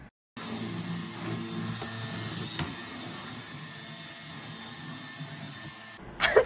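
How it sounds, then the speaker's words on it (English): A vacuum cleaner runs steadily with a whining, droning hum for several seconds, starting abruptly after a moment of silence, with a brief louder clatter at the end as it chases a dog. "This was the point I realized that I can chase my dog with a vacuum."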